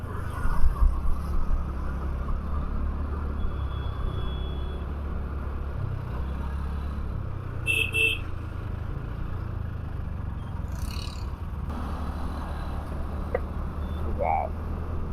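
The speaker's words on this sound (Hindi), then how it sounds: "ट्रैफिक तो खत्म ही होने का नाम नहीं ले रहा" Steady road traffic rumble heard from a motorbike on a commute to the office, low engine and tyre noise running throughout, with a couple of brief higher-pitched horn-like tones partway through.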